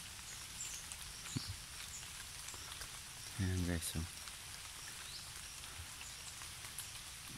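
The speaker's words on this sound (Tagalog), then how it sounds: "Gamay ra maning ulan" Light rain patters softly and evenly in a rural outdoor setting, a faint steady hiss with a brief voice breaking in near the middle.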